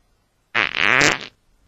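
A video game character's fart emote: a single loud, buzzing fart lasting under a second, close and isolated against silence.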